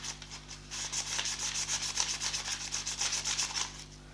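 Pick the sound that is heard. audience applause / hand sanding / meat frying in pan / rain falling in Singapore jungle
hand sanding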